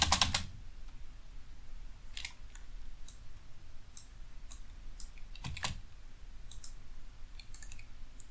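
Computer keyboard keys clatter in scattered bursts, with a few louder spacebar presses among lighter taps, close and fairly quiet over a low background hum, with no talking.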